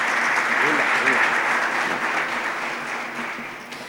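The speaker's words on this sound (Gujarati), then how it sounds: "જોરદાર તાળીઓથી ફરીથી આપણે આ સન્માનને વધાવીએ." Warm audience applause rings out at an honouring ceremony for a guest speaker, dense clapping that is loud at first and gradually thins and fades, with a voice briefly heard under it.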